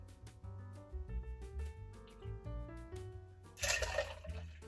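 Watermelon schnapps pours into a shot mix with a short, close splashing burst near the end, behind soft background music.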